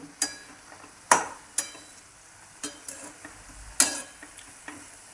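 Dill and moong vegetable dish being stirred in a pan after salt goes in, giving a handful of sharp, scattered scraping clicks over a faint sizzle, close by with no talking.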